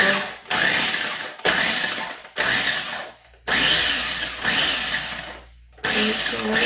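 A blender whirs loudly in short repeated pulses, chopping dried elephant garlic leaves, about six bursts separated by brief near-silent gaps.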